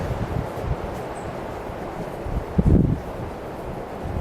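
Strong wind buffeting a microphone at an outdoor airsoft range, a steady loud low roar with a heavier gust near the end and no talk.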